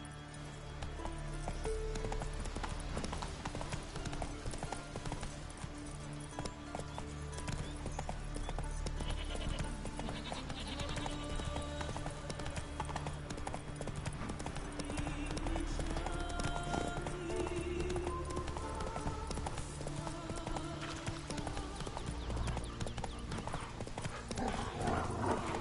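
Hooves of Roach, the horse in The Witcher 3, in a continuous rhythmic clip-clop that stays steady and close for the whole stretch, layered over dense game ambience and background music, with a faint whinny.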